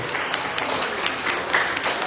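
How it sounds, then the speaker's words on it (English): A community gathering audience claps for a speaker, a moderate, slightly sparse patter of hands held at an even level through the short stretch. "can you give a round of applause for Dr. Yusuf, please?"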